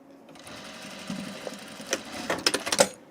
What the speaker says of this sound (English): I think we might stitch the facing down to the garment.